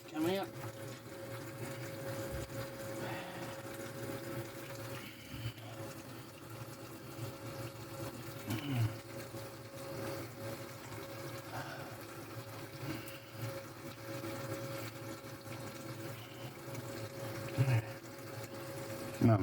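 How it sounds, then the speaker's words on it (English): Bilge pump pushing water out of a boat, a faint continuous churning and trickle of water with a low mechanical hum underneath, close by, with soft bumps and occasional louder splashes. "None of that will help the bilge pump work."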